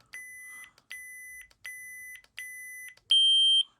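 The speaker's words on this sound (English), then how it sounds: "The beep is getting softer." Four short electronic beeps from a Proffie lightsaber soundboard's volume control sound at an even pace, each a little quieter than the last. A final louder beep at a different pitch follows.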